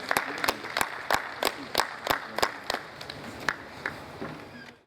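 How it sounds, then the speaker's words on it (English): Sparse applause from a small audience at a business roundtable on construction and the national budget, a dozen or so distinct claps spaced out in a loose rhythm, fairly near, fading toward the end. "please a round of applause for him"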